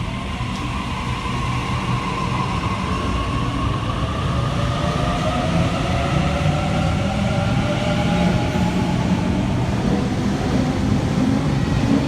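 A Sydney A set electric train pulls into Parramatta station platform 3 on a Liverpool service, a loud steady rumble of wheels and motors with rising and falling whine tones throughout, close by with no talk.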